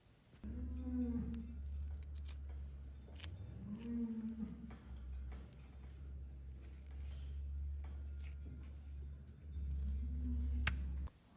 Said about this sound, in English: You hear that cow grumbling in the background? It's not actually a cow. That's a bull.